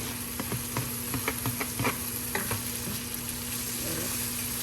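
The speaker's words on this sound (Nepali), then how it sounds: "यो सबै राखेर हामीले एकैछिन यसलाई पाक्न दिने।" Chopped onion and other ingredients fry in a pan with a steady sizzling hiss, and a few light scrapes and clicks of a utensil are heard near the start, with no talk.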